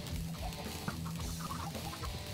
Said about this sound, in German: Aber wieder freilaufende Hühner.